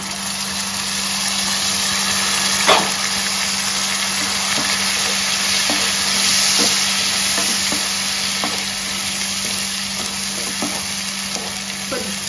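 Spiced masala and onions fry in a pan for a Telugu fish curry, a steady sizzle broken by scattered stirring scrapes, with a low engine-like hum running underneath throughout.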